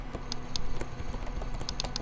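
Computer keyboard keystrokes and mouse clicks from a gaming PC setup, a steady run of close, crisp taps with a few sharper clicks standing out, no voices.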